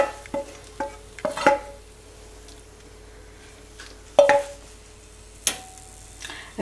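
Cooked spinach and mushroom stuffing is scraped from a pan into a bowl, giving a few sharp metallic scrapes and clinks spaced apart against a quiet background.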